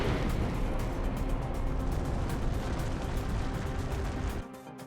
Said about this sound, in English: the explosion is far greater